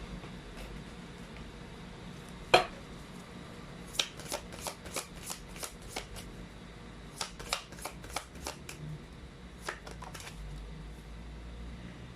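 Chinese fortune cards are handled and shuffled at close range, giving quiet bursts of crisp riffling clicks in quick clusters with pauses between, and a sharper tap early on.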